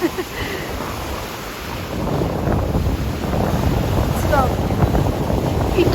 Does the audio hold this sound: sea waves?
yes